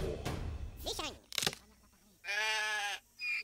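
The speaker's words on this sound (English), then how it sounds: "Big sheep." A sheep in the rhythm game Headbangers: Rhythm Royale gives a loud, sustained bleat near the end, following game thumps and clatter, with a short second bleat cutting in at the close.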